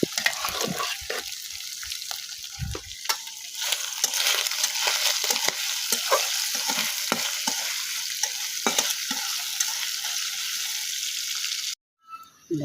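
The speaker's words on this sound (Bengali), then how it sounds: "কলিজার আলুগুলো ভেজে নিলাম, সব মশলা দিয়ে কষিয়ে দিলাম" Chicken liver and potato pieces frying with spices in a pan, with a steady close sizzle and repeated spatula scrapes and stirs running throughout, ending in a brief pause.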